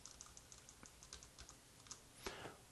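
Light, evenly spaced keystrokes on a computer keyboard in a word-processing lesson, soft clicks ticking along alone, ending in a slightly louder key press.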